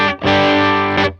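An electric guitar runs through a boost pedal stacked with a compression sustainer for an overdrive-like tone. A short strummed chord sounds up close, then a second sustained chord rings with thick, even distortion.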